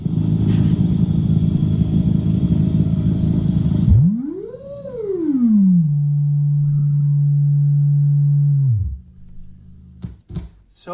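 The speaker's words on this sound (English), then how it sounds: "It's the voice of the Liquid Glitcher." The Liquid Glitcher synthesizer first plays a dense buzzing tone, then a smooth sine-like voice sweeps up and down in pitch, holds a steady low note for several seconds and drops away, followed by a few faint clicks.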